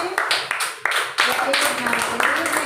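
Children in a third-class maths classroom clap for a classmate in short, uneven bursts of applause, mixed with busy room noise and voices.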